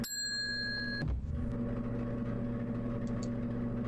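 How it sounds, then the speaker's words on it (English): A single bright counter bell ding in a horror visual novel game rings out clearly with a sustained metallic tone, then cuts off, leaving a steady low hum underneath. "Look at the bell. Some kind of internal deliberation, I finally decide to give it a press."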